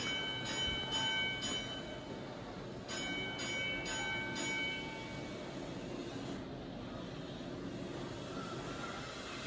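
A train rumbles steadily as it approaches a signal box, a broad low roar that stays constant throughout, with short clear bell rings in quick groups near the start.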